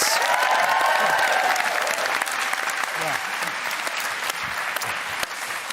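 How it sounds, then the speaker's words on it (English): Studio audience applause on a late-night talk show, loud and sustained across the whole stretch, fading slightly toward the end, with a few voices and cheers mixed into the dense clapping. "Give them all a round of applause."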